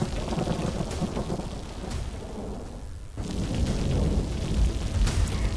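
Heavy rain pours steadily during flooding with thunder rumbling through it, a dense, loud continuous roar that dips briefly midway before swelling again.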